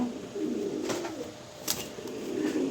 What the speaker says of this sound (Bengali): খুব ভয় পাইতেছে কবুতর